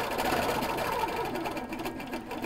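A machine quilting setup, an HQ Capri sewing machine, stitches steadily along a quilting ruler with stitch regulation; a continuous, even mechanical whir hums without pause, fairly loud and close throughout.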